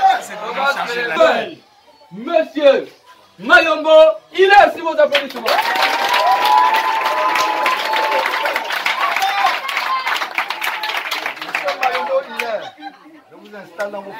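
Applause for Monsieur Mayombo at an official Union des Forces Nouvelles party event in Rembo, dense clapping and crowd noise rising after someone speaks into a loud microphone, with chatter mixed in.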